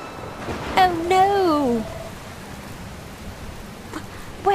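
Steady hiss of rain falling in the video game Dragon Quest Builders 2, with brief chirpy character voice blips over the constant wash of rain.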